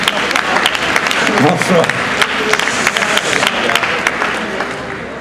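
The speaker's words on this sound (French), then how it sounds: "On applaudit." An audience applauds steadily for an author at the Utopiales 2010 festival, dense clapping filling the hall while a voice briefly offers a greeting over it.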